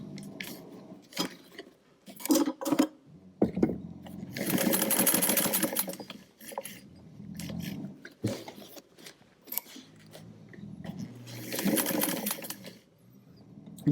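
A sewing machine stitches fabric pieces for a Monsieur Polichinelle doll, running in two sustained, close whirring bursts with quieter handling and rustling of the fabric between them, and no talk.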